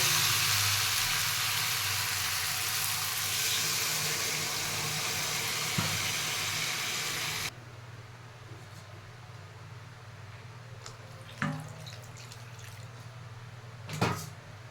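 Jackfruit and prawn curry sizzles loudly and steadily in a pan as water is added, then the hiss cuts abruptly to a much quieter simmer broken by a couple of sharp knocks.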